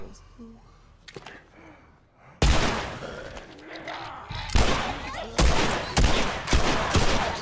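Pistol gunshots fired at zombies in The Last of Us, several loud sharp reports spaced a second or so apart after a quieter start, over the game's ambient noise and creature sounds.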